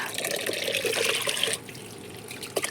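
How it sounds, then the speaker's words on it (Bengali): Fresh cold water poured into a garden tank, a steady close splashing stream that abruptly drops off midway, leaving a softer trickle with a faint bump near the end. "একটু যে ট্যাঙ্কে টাটকা জলটা দিই, এই জলটা ঠান্ডা"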